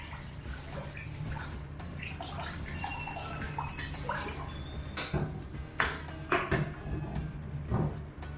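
Water pours into a pan of braised pork in soy sauce, a sloshing, splashing stream that starts and stops several times over steady background hum, close and fairly loud, with some kitchen clatter.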